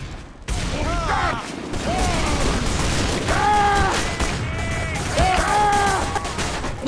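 Sentry turret fire in Team Fortress 2, a steady rattling stream of shots running nearly the whole time, mixed with chirping game tones and someone speaking excitedly over it.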